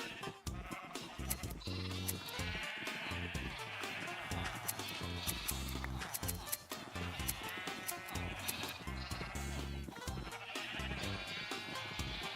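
Many sheep bleat loudly and repeatedly in Minecraft, their overlapping cries piling up over a dense wash of game sound and music.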